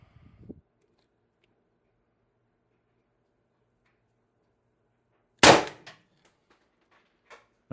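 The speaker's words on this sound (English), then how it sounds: "mag 1, shot 1 with the sniper barrel, 8-inch sniper extension on here." A single sharp crack from an Umarex TR50 airgun firing on high-pressure air with an 8-inch sniper barrel extension fitted, heard in quiet surroundings, followed by faint small clicks and a light knock.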